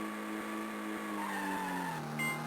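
A tire skid from a handbrake turn in the Stuntman racing game on Game Boy Advance, a sustained tonal squeal that bends downward over a steady engine drone, loud and alone.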